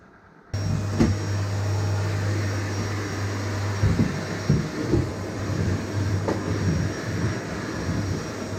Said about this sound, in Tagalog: Tapos na yung ating pag-vacuum sa loob ng bahay.